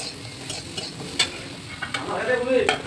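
Potatoes with salt and turmeric being stirred in a hot pan, with repeated scraping strokes over a continuous sizzle that grows louder toward the end.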